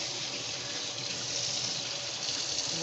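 Hot tap water pours steadily into a kitchen sink over raw chicken pieces being rinsed, a continuous broad rushing splash with no pauses.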